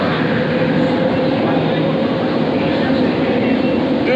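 A metro train runs at a station, giving a loud, steady rumble and rolling roar that continues without letup throughout.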